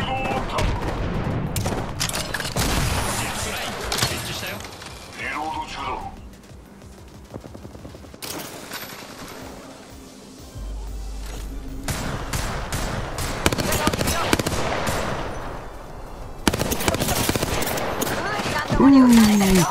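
Dense video-game gunfire rattles almost continuously in rapid bursts and volleys, loud and busy, with brief lulls, under excited voices of players calling out.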